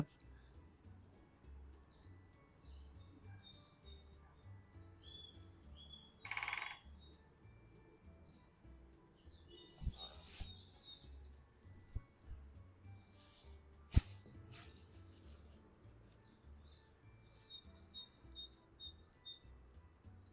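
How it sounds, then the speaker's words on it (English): A woodpecker calls outdoors, giving faint, distant chirps and short calls scattered across a quiet background, along with a few sharper clicks and a brief louder tone. "I'm sure that was a woodpecker."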